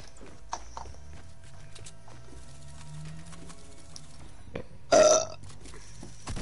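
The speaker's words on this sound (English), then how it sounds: "if you're gonna burp, can you like mute your mic?" A single loud, abrupt burp blasts into a gaming headset microphone, short and close-up, standing out sharply against quiet background chatter and game noise.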